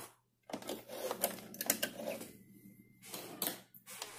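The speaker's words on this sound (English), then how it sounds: "I'm sewing just the curve of the nose, going forward and backward." A sewing machine stitching the nose curve of a face mask, fast mechanical rattling bursts stopping and restarting as it runs forward and backward, close and clear.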